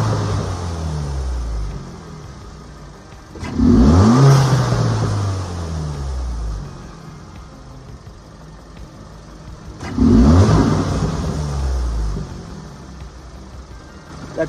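Two strong revs from a Kia Forte GT engine with an aFe Takeda Stage 2 cold air intake, each climbing sharply and falling back to a steady idle rumble, recorded near the front of the car.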